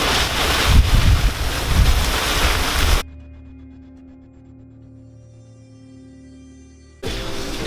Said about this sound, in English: He just made impact here in Orlando, Florida, and the wind gusts are so strong!